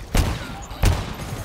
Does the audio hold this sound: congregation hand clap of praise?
no